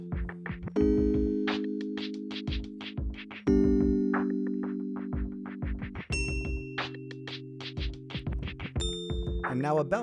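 Bright, hard-edged electric piano synth chords ring out over a tight drum pattern, punchy and clear with a steady rhythm.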